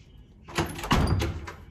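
A door opens with a couple of close, solid thunks and a short sliding rattle, moderately loud and over in about a second, with no talking.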